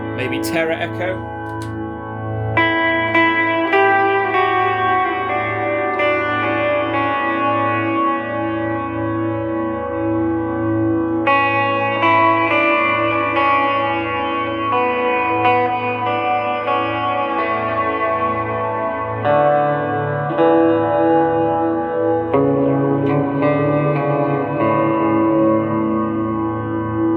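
Electric guitar run through a Tera Echo effect on a pedalboard with a Superego pedal, held chords and notes swelling into a lush, smeared echo wash that sustains for long stretches.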